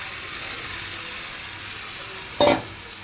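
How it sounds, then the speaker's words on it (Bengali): A pumpkin and shrimp mixture goes into a hot kadai, giving a steady oily sizzle, with a brief louder hissing burst near the end. "এবার কড়া চাপিয়ে নিয়েছি, এবার কড়ার মধ্যে ঢেলে দেবো,"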